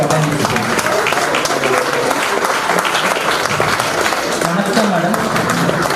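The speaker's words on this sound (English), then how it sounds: "May I have a round of applause" A school alumni meet audience claps together in a steady, even round of applause, dense and continuous throughout, with faint voices and crowd murmur underneath.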